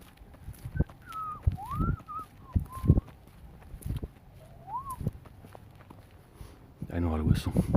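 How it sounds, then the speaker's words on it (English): A person whistles short, wavering melodic phrases outdoors on a walk in a park, with footsteps and a voice talking between the notes. "I know how to whistle."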